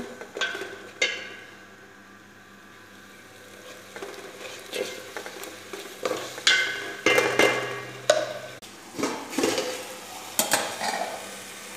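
Ground spices sizzle in a hot pan as a utensil stirs and scrapes, with occasional metallic clinks growing louder toward the end.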